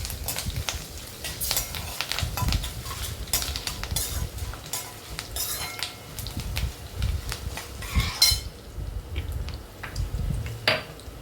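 Mango pulihora rice is stirred and fried in a pan, a spoon scraping and clinking against the metal in an uneven rhythm over a soft, constant sizzle, close up with no voices.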